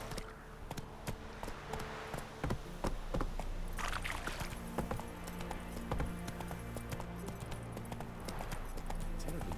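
The horse Roach gallops in The Witcher 3: Wild Hunt, with rapid rhythmic hoof clip-clops that carry on steadily and fairly close over faint ambient game sound.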